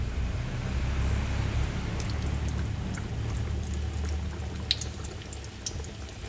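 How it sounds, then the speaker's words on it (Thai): Continuous pouring of frying oil out of a pan with a low, steady gurgle, accompanied by faint metallic ticks and clinks. "เทน้ำมันออกนะคะ ให้เหลือน้ำมันไว้สักประมาณหนึ่งช้อนโต๊ะนะคะ"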